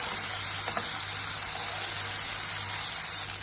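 Okra sizzling and frying uncovered in a pan as it is stir-fried for a dry Marathi-style bhaji, a steady loud hiss that continues throughout with no talk.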